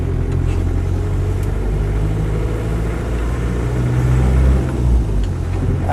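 A Land Rover 90 diesel hardtop engine idling steadily with a continuous low rumble, close and loud, running smoothly throughout.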